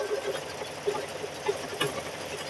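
A sewing machine stitching a quilt, its needle running in a fast steady mechanical rattle with small periodic knocks, close and continuous without speech.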